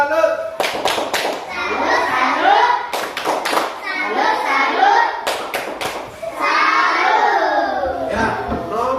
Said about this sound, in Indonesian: Wah, nah, tepuk salut.